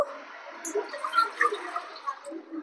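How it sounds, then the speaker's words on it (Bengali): Strained mint lemon juice poured into a large container, a close, bubbling liquid splash that gurgles unevenly for a couple of seconds. "আর এবার আমি এই জুসটাকে একটি বড় জায়গায় ঢেলে নেব"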